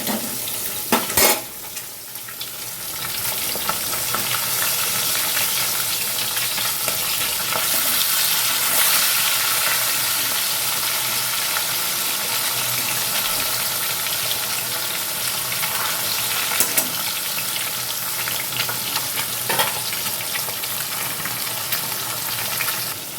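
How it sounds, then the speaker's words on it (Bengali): Fish fries in a pan with a continuous, loud, close hiss and crackle that stays steady for the whole stretch, broken by occasional faint clinks of utensils against cookware. "এদিকে দেখো মাছ ভাজা বসিয়ে দিয়েছি"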